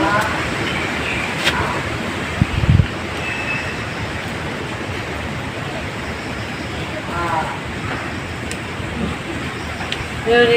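Strong wind from Cyclone Remal roars steadily as a broad, loud rushing noise for the whole stretch, with brief knocks and gusts rising near the end and voices buried faintly underneath.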